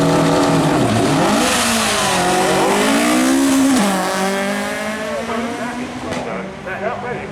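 A 2260cc Duratec-powered Group 4 Ford Escort race car accelerates hard at a speed trial, its engine note climbing through gears with loud, continuous revving close by.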